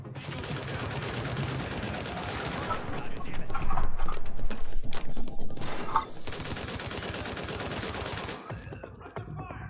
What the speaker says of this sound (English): It's amazing how you can aim with a 15 power scope and a heavy machine gun.